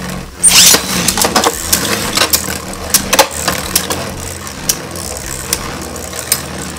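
Spinning Beyblade Burst tops, Spriggan against Vanish Achilles in a left-spin stamina battle, sound from close by: a sharp launch clack, then a run of irregular clicking collisions and rattles, with a whirring hum beneath that slowly thins.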